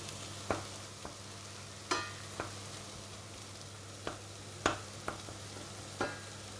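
Garlic frying in a pan for bolognese sauce, with a soft steady sizzle beneath scattered sharp utensil scrapes and taps from stirring, about eight distinct knocks across the stretch.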